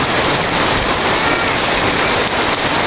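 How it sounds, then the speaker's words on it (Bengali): Heavy rain pours down in a thunderstorm before Friday prayers, a dense, steady hiss that stays loud and unbroken throughout with no voices. "অনেক দিন পর বৃষ্টি নামছে"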